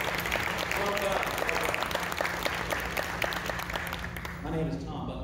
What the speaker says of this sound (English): So they really deserve a round of applause before we talk to them.